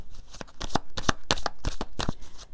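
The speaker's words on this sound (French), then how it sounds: "Moi, j'aime bien battre les cartes." A deck of tarot cards is shuffled by hand in quick bursts of crisp slapping riffles, about a dozen sharp clacks in irregular rhythm, close and clear with no voices.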